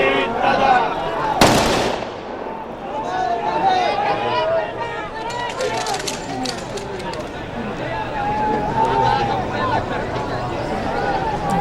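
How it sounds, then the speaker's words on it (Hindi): Ceremonial rifle salute fired at Ajit Pawar's state funeral last rites in Maharashtra, a sharp loud volley crack near the start followed by crowd murmur and distant voices throughout. "या तो 21 तोपों की या फिर राइफल से 3 राउंड की फायरिंग की जाती है"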